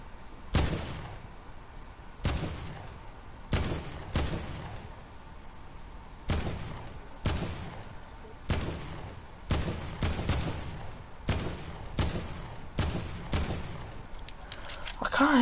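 Gunfire in a video game, with single sharp shots and quick pairs spread irregularly across the stretch, loud and close, each ending in a short reverberant tail, with some speech in the background.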